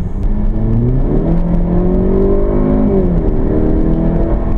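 A 2016 Range Rover Evoque Convertible 2.0 l Si4 engine revs up loudly in sport mode from inside the cabin, its drone climbing in pitch, dipping briefly, then rising again as it accelerates.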